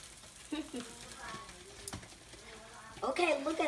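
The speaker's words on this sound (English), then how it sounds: "Let it just sizzle and sizzle, sizzle and sizzle." An omelet sizzles and crackles in a hot frying pan, with utensil scrapes and some background voice sounds.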